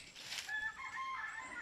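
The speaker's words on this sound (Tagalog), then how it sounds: "may mga alaga din silang manok dito guys" A rooster crows faintly in the distance, one drawn-out call heard alone against quiet outdoor background.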